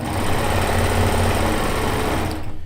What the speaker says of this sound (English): A serger is a wonderful alternative to do that, as opposed to a sewing machine